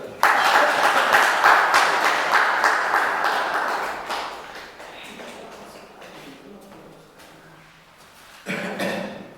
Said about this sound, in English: So please give a round hand of applause for Balkeshwar sir.